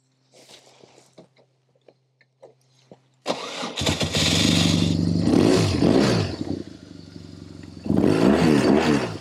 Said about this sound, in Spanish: vamos a ver si la moto arranca